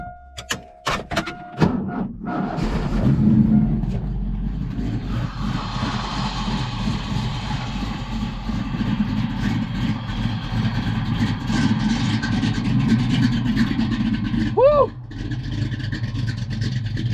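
A Ford Mustang Foxbody with an aftermarket cam, run after sitting ten years, cranks with a few clicks and then catches. It settles into a loud, lumpy, rumbling idle that continues steadily throughout.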